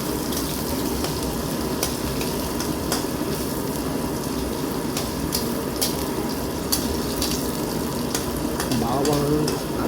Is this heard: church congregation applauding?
no